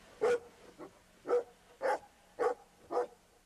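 A search and rescue dog barking in a steady series of six loud, evenly spaced barks with softer yips between them, close by and with no voices.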